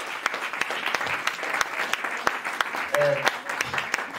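Audience applause for Dr. Laurence Kaiser at a French-language talk, a steady crowd clapping with sharp individual claps throughout and a brief voice cutting in near the end.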